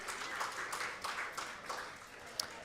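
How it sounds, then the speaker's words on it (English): Faint, brief applause from an audience at a tech presentation, scattered clapping that stays soft and distant for a few seconds. "Please give a round of applause for our fourth participant."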